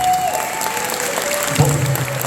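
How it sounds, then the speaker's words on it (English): Wedding reception guests at the McNay Museum applaud the serving staff, a steady burst of clapping from a room of people that continues throughout. "in my opinion, all of them deserve a round of applause."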